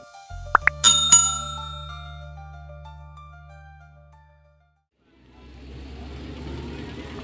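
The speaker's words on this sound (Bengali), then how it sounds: "এখন আমরা আছি হরিদ্বার বাস স্ট্যান্ডে।" Busy traffic at Haridwar bus stand: a bicycle bell rings and sharp clanks sound early over a steady engine hum that fades to near quiet, then a broad street rumble of vehicles rises again.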